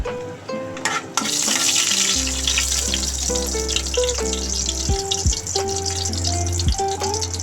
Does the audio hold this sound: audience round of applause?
no